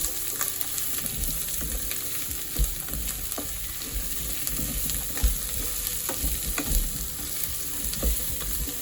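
Tender drumstick pieces and tomato curry are stirred in a hot pan, giving a steady sizzle with scraping and soft knocks from the spoon throughout, and no talking.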